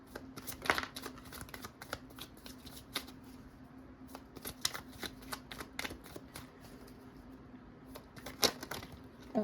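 Tarot cards being shuffled by hand give a soft, steady papery riffling with crisp flicks scattered throughout, close and fairly quiet.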